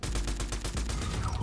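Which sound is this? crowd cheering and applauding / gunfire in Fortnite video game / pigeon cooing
gunfire in Fortnite video game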